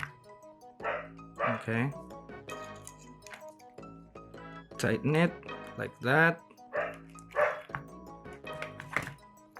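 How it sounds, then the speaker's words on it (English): A dog barks and yips in repeated loud, close bursts with short whimpers in between, over someone talking through a knot-tying demonstration. "My dog is barking like that."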